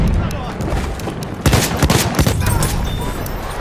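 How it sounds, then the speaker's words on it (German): Video game machine gun fire rattling out in rapid bursts over steady battle noise, loud and close, with shouting voices mixed in. "Ein Maschinengewehr!"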